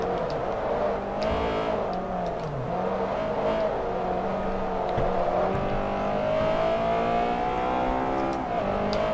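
Race car in Forza Motorsport 3 launching from the start of a lightweight sports car race among Porsches, engine roaring through rising gear sweeps, loud and steady with other cars close by.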